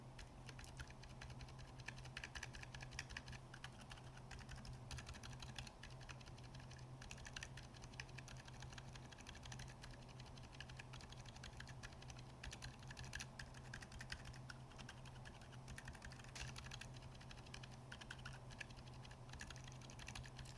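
Typing on a keyboard fitted with lubed 55-gram Gazzew Boba silent switches and Deskeys gasket film. A quiet, muted patter of keystrokes continues steadily and close up, soft and damped, with no voices.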